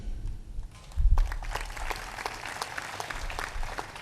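An audience at a satsang claps together in a dense, lively burst of applause that rises sharply after a brief lull and carries on steadily, with scattered louder individual claps.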